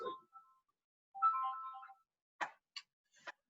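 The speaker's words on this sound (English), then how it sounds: "my stupid phone is ringing" A mobile phone rings in a kitchen during a cooking class, a short melodic electronic tune followed by a few sharp chirping tones, fairly faint with silence between bursts.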